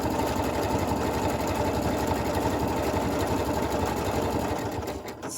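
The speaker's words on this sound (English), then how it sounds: "use all the wonderful decorative stitches on your sewing machine" A sewing machine runs decorative stitches on a quilt block, giving a close, fast, even mechanical whirr with a rapid needle rhythm that eases off just before the end.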